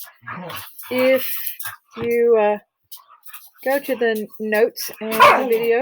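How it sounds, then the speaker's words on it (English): Dogs play and bark in the background of a home while someone speaks over them, the occasional barks and yips short and mixed under her steady talk. "you may hear my dogs playing in the background"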